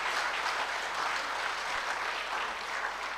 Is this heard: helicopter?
no